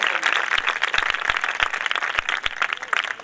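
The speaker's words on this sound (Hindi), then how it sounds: "ऐ जोरदार तालियां खुदा के नाम" A church congregation breaks into loud applause, a dense continuous patter of many hands with a few sharper individual claps standing out, close and lively for the whole few seconds.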